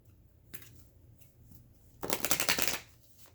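Archangel oracle cards in a tarot reading are shuffled close by: a few light flicks, then a dense, rapid riffling burst of papery clicks lasting under a second, with no voices.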